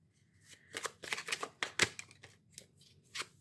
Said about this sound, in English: Let me pull for tarot.